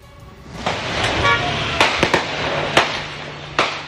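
Sharp gunshots ring out during an attack on an election convoy before the Lahore by-election in PP-167 Johar Town: about five distinct cracks, scattered irregularly over a constant rumble of vehicles and crowd noise.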